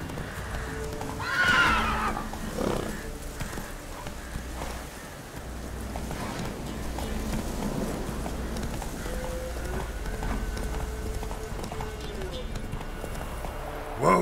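Roach, a horse in The Witcher 3, neighs loudly early on, then gallops with continuous clip-clopping hooves under ambient wind and background game sounds.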